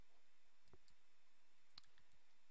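Quiet mouse clicks on a computer, one sharp click near the start and a second, crisper one about a second later, set against faint room hiss.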